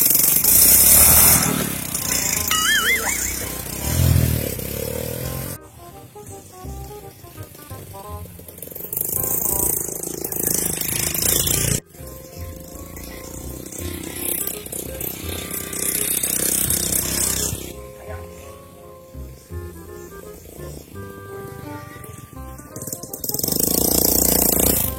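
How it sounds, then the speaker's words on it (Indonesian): An old, worn two-stroke motorcycle engine runs with a harsh, rattling buzz that comes in uneven bursts, loud at times and dropping away at abrupt cuts, mixed with other clatter. "Bos, kan motor 2 tak, bos dia lah."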